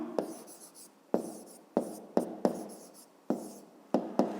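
A pen scratches across paper in short separate strokes while someone writes out a fifth-grade geometry exercise. The strokes come in quick bursts with brief pauses between them, close and fairly quiet, with no talking.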